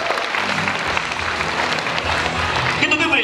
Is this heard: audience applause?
yes